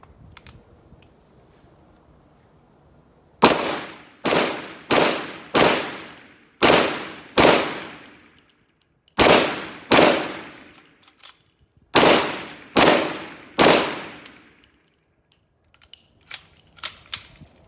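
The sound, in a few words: Winchester 1873 lever-action rifle firing .357 Magnum rounds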